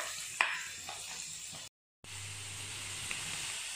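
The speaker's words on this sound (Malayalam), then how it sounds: "ചൂടാ ശേഷം സവോള ഇട്ട് വയറ്റുക." Chopped onion for chicken samosa filling sautés in hot oil with a soft, steady sizzle and hiss, broken by a few faint stirring scrapes and a brief dropout of silence midway.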